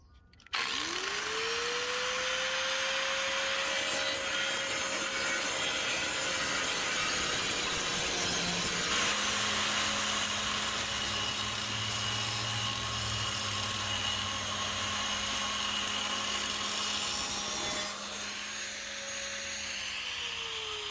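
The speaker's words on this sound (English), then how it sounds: "Let's get cutting the bumper." Power saw cutting through the bumper of a Smart car, a loud continuous whine that spins up, holds steady through the cut with a shift in tone partway, then winds down.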